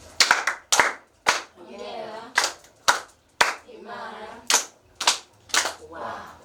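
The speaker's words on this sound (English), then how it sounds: "Clap your hand for him" An audience at an electronics engineering workshop claps in a rhythmic pattern, sharp sets of hand claps with short bursts of cheering or voices between them, close and loud.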